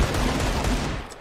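Video game gunfire crackles in a dense, continuous burst of rapid shots, loud and close, with no talking over it.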